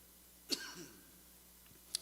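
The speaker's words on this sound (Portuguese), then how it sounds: "Mas estou numa tosse desde aquele dia." A man with a lingering cough lets out two short, sharp coughs about a second and a half apart, close and fairly quiet against a still room.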